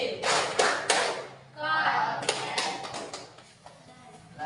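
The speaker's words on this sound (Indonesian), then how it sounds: "Tepuk konsentrasi." A classroom concentration clapping routine, with several bursts of hand claps and taps in a patterned rhythm, a voice between the claps and a quiet room behind.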